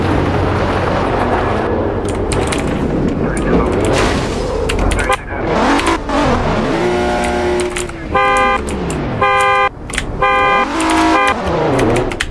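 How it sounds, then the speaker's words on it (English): Horn on a 2017 Nissan 370Z sounds in several short, sharp honks late in the sequence, over steady engine and road noise and some talk. "So this time I'm gonna honk."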